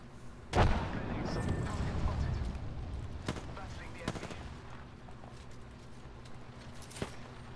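A video game battle opens with a loud boom, then a rumbling explosion tail and scattered sharp gunshots at moderate distance, with speech under the noise.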